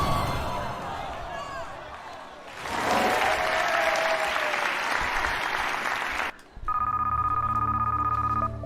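Applause and crowd noise fill the room during a Deal or No Deal style game, then a telephone rings in a steady repeating electronic tone near the end.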